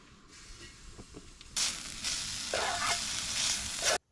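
Longaniza sausage frying in a pan for a campsite breakfast in a volcanic cave, starting with a quiet lead-in before a loud sizzle bursts in and keeps hissing steadily, with brief scraping stirs near the end.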